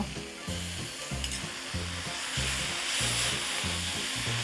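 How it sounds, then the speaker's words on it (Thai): Pork belly and dried pickled mustard greens are stir-fried in a pan, a close, steady sizzle with rhythmic scraping strokes of a spatula repeating about twice a second, without any talk. "ผัดรอผัดไปเรื่อยๆ"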